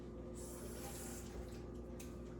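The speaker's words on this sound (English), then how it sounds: "just a second so I can wash this off my hand" Tap water runs steadily into a kitchen sink while hands are rinsed after handling cayenne pepper for chili, a continuous broad hiss that lasts throughout, with no talking.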